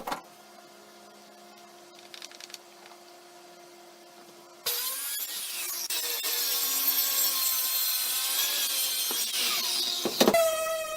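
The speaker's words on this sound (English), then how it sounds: "I used a circular saw and a straight edge guide I made a while back to cut the top" After a quiet hum, a circular saw guided by a straight edge rips through a wooden vanity top, a loud sustained whirring cut lasting several seconds before spinning down with a final rising burst.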